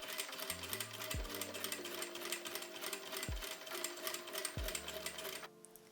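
A sewing machine runs a steady seam 5 mm from the fabric edge on a feather robe, its motor whirring continuously with rhythmic needle ticking and a few brief pitch shifts, close and alone before stopping abruptly.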